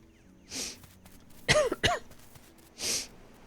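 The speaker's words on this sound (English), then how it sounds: "I'm so sorry about the sniffles." A few short allergy sniffles and snorts, spaced apart, close and soft, with a couple of throaty catches in the middle.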